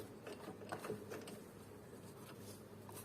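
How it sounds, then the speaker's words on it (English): A Bernette Sew and Go 8 sewing machine, just cleaned and oiled, runs with a soft, steady mechanical whir and faint ticking, quiet and close throughout. "Always after cleaning it is better to test the machine."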